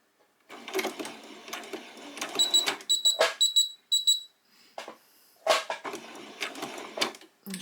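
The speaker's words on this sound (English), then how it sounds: "So now we're going to very carefully sew all the way along here on that second side." A sewing machine stitches fabric forward in short, rapid mechanical runs of buzzing and whirring, separated by brief pauses, close and clear.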